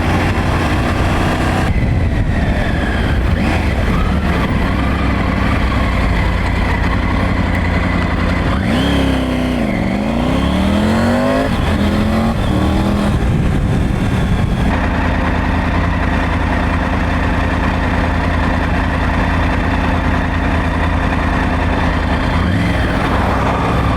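Triumph Tiger 900 Rally Pro motorcycle in sport mode, engine loud and close with wind roar as it pulls hard, a sharp rev rise and gear changes midway before settling into steady cruising.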